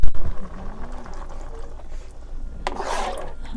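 Water pours into a pot of curry with potatoes, onions and meat, a short gurgling splash rising near the end after a quiet stretch of low kitchen noise.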